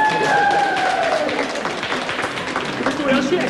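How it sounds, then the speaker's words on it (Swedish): A 1996 Swedish late-night talk show studio audience applauds the evening's first guest. The clapping swells into a dense wash under the host's continuing speech and stays fairly loud throughout. "Kvällens första gäst, ge honom en applåd."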